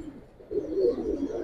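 A red-marked homing pigeon coos softly nearby, a brief low murmuring burst that swells and lingers over a quiet background.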